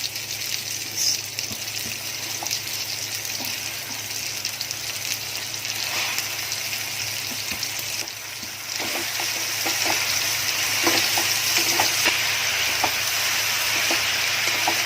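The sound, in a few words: spinach and potato frying in a pan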